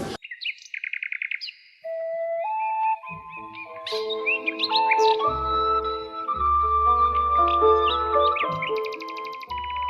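A nightingale sings alone, close and clear, with rapid repeated chirps, whistled notes and trills that grow denser and fuller over about ten seconds.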